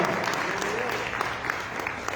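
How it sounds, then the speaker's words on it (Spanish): Church congregation applauding, a dense sustained clapping wash with some individual claps standing out and faint voices mixed in underneath. "Den un aplauso al Señor"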